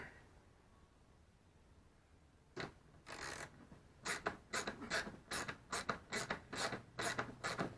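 A ratchet with a 10mm socket tightens a bolt on a Honda Foreman 500 ATV being refurbished: after quiet handling noises, a series of quick, close, rhythmic clicking ratchet strokes, with no talking.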